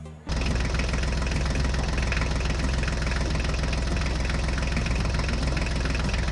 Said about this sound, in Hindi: जल्दी से ट्रैक्टर गाड़ी को लेकर चलो।